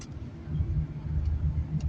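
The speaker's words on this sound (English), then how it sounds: "This is Christmas traffic." Christmas traffic on southbound Michigan Avenue at Walton in Chicago on a December afternoon: a steady low rumble of passing cars, close and continuous, with faint brief higher sounds.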